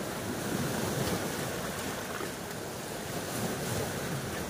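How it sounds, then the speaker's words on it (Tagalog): Large ocean waves crash and surge continuously at a shoreline, with a broad, steady roar and wind noise and no voices. "Grabe ang lalaki ng alon ngayon mga bro."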